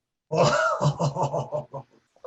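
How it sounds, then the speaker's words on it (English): A person makes a mock smoker's cough as a signal noise, a rough, rasping string of hacking bursts lasting about a second and a half, close and fairly loud, trailing off into quieter breathy coughs. "like a smoker's cough"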